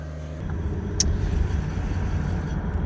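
A Toyota Camry convertible with slightly rusty rotors hums steadily up close with a low, even rumble of road noise on a Maine island, and a brief faint squeak near the start.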